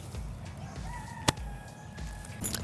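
Chickens on a small farm, a mix of several breeds, make soft sporadic clucks with one sharp close call midway, low and unhurried over quiet background noise.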